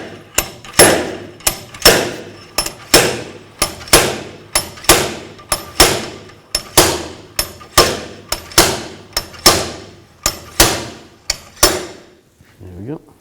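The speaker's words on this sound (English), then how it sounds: "Now I'm going to use a slide hammer with that all tightened up and take the bearing out." A slide hammer pulls a rear axle bearing on a 2000-2006 Chevy Tahoe, about twenty sharp metallic clanks landing in a steady rhythm, close and loud, with no talk over them.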